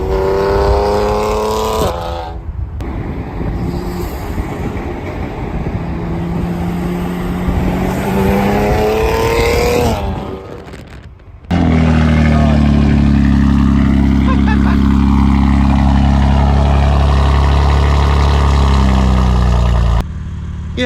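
BMW G80 M3 inline six with catless downpipes and full catback exhaust, heard in loud passes with rising and falling engine tones, a brief dropout, then a steady heavy drone close by.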